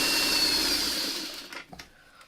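A sewing machine whirs steadily as it stitches quilt block pieces, running for about a second and a half before stopping, followed by a few light mechanical clicks.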